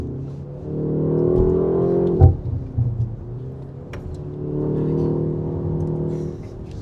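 A BMW M135 F70 with its gearbox in sport mode accelerates from inside the cabin, the engine note climbing steadily. There is a brief thump and a short dip partway through before it pulls again.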